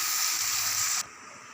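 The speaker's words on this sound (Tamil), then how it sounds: "ஆனியன் நல்லா வதங்கட்டும்." Finely chopped onions sauté in hot oil with spices in a pan for channa masala, giving a loud, steady sizzle that drops off abruptly after about a second, with no talking.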